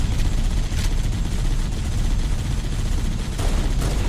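Dense, continuous gunfire and explosions in the Halo Combat Evolved co-op campaign, loud rapid shots layered over a heavy rumble with a couple of sharper bursts.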